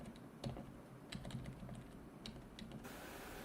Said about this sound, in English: Now it's just the typing sound in the background.